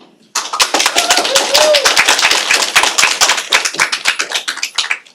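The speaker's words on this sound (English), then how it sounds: "if we can try and keep the clapping and the noise down" Audience members clap at a public housing authority board meeting, a dense burst of many hands starting abruptly and carrying on steadily before thinning toward the end, with a faint voice briefly underneath.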